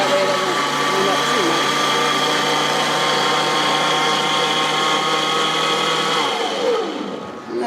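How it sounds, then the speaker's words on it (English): A kitchen blender runs on its low setting for spaghetti sauce, a steady, loud, continuous whir that holds even throughout and winds down slightly at the very end. "Let's do a low blender."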